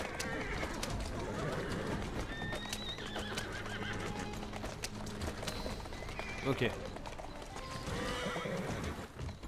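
Horses in Assassin's Creed Syndicate clip-clop steadily, with a whinny and other game sounds layered over a busy street-like background, while someone talks throughout.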